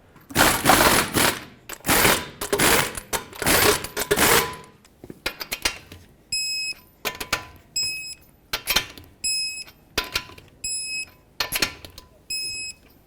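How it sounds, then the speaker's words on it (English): Lug nuts on a 2010-2017 Chevrolet Equinox wheel are run down with loud, rattling tool bursts, then torqued to 140 foot-pounds in a cross pattern, with repeated ratchet clicks each followed by a sharp high beep. "torque them also in a cross pattern to 140 foot-pounds"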